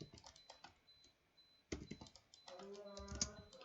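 Quick, irregular clicks of a computer keyboard being typed on, entering AutoCAD drawing commands, with close, crisp keystrokes in short bursts and a quiet voice murmuring underneath.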